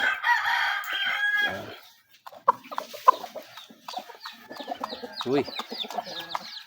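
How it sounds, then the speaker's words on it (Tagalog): Chickens clucking and a rooster crowing at close range on a backyard poultry setup, with bursts of calls through most of the stretch and a person speaking briefly among them. "Ay mga sisiyo natin, oh."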